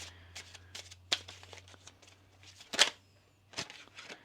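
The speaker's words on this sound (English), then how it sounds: "Let's get one more shuffle." Tarot cards being shuffled during a reading, a series of quick papery riffles and flicks in short bursts with one sharp louder riffle near the middle, close and fairly quiet with a low steady hum underneath.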